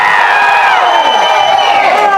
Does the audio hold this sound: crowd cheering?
yes